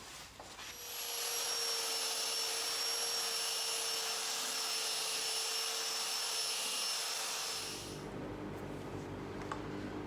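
A belt sander works wood with a dust collector running, a loud steady whirring roar with a thin high whine and gritty rubbing that lasts several seconds before the motor cuts and winds down.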